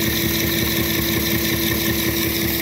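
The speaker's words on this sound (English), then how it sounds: "Now the generator is calmed down. It's being put under load." A generator engine runs steadily under load, a loud, even, close mechanical drone with a low throbbing pulse and no speech.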